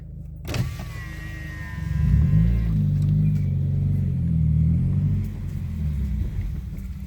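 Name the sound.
Subaru WRX engine idling with RPMs dropping low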